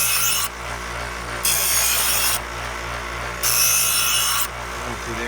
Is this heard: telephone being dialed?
no